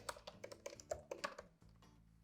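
Quiet typing on a computer keyboard while entering text into a website text block: a rapid, uneven patter of light key clicks with a brief pause before a few more taps, heard close up with no talk.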